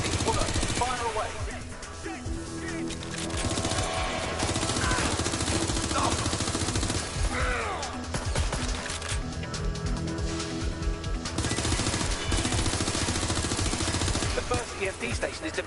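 Bursts of gunfire and explosions from a combat sequence in Watch Dogs: Legion, dense and continuous over a loud game soundtrack, with game voices speaking over the action.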